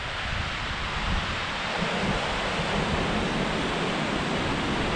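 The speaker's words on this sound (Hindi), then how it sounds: "हवा इतनी तेज चल रही है ना तो सारा पानी उठ जा रहा है" Strong mountain wind roars steadily near the Vasudhara waterfall in snowy high country, a loud, continuous broadband rush with the falling water blown and mixed into the gusts.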